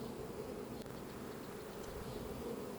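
A honeybee swarm merged into one big colony hums inside a hive box, a steady dense buzz that carries on unbroken and fairly loud throughout.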